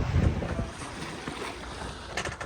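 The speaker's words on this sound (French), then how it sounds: "Il y a un peu de la vague, alors les voiles elles tapent un peu." Wind buffets the microphone over lapping waves, with sails flapping and slapping irregularly as a sailboat moves through choppy water in light wind off Greece.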